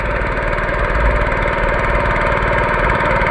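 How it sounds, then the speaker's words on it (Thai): A Honda long-tail boat engine drives out across the water to a fishing spot. Its loud, steady, throbbing drone runs close and unbroken throughout, with no voices. "กำลังขับเฮือออกหมายครับตอนนี้"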